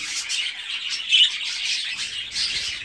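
Bengalese finches, parents and their young from a fourth clutch, chirp steadily in an aviary, with a dense, continuous twittering that includes one brief louder peak near the middle.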